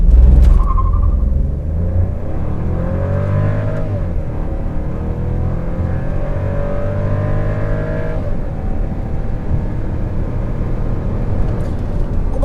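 A car with a 1.0 engine launches hard from a standstill, its loud engine roaring and climbing through rising revs and a gear change as it accelerates, close and continuous.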